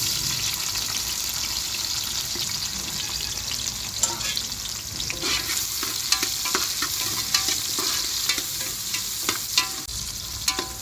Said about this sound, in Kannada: ಈರುಳ್ಳಿ ಬೆಳ್ಳುಳ್ಳಿ ಎಣ್ಣೆಲಿ ಉರಿವಾಗಲೇ ಗಮ್ ಅನ್ನಬೇಕು